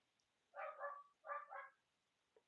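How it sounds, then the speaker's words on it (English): A household dog barks at a distance, two quick pairs of muffled barks in short succession, faint and without talk. "Uh-oh, my mom's dog's barking."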